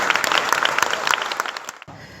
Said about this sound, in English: So a round of applause for the candidates.